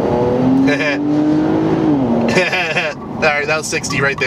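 An Infiniti Q60 engine revs and pulls hard, rising in pitch through the gears, loud and close, while someone talks over it.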